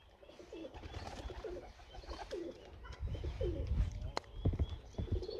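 Pigeons coo repeatedly in soft, rolling calls at a bird keeper's loft, alongside chirps and occasional sharp knocks in a noisy yard.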